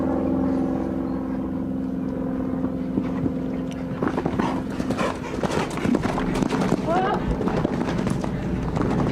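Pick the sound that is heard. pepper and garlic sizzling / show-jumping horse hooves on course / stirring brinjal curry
show-jumping horse hooves on course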